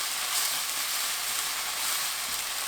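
Carrots and onion stir-fry in a pan with tomato sauce and gochujang, giving a steady, close, bright hiss of sizzling that never lets up, with no voices.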